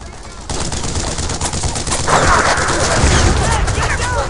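Loud, dense gunfire aimed at a tank in the video game Brothers in Arms, with bursts of rifle and machine-gun shots over a rumbling battle bed and shouting voices mixed in.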